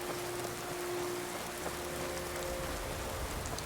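Steady rain falls across an outdoor area of the modded Skyrim Special Edition game, a constant soft hiss of drops that is fairly quiet and continuous, with a faint low tone holding underneath and no voices.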